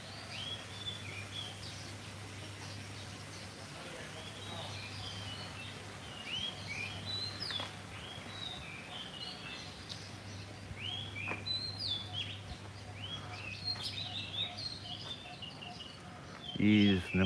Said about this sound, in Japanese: ここめちゃめちゃ静かで、 鳥の声、